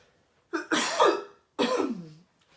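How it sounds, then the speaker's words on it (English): Two harsh, close coughs in quick succession, each a rough burst lasting under a second. "Tickly cough today."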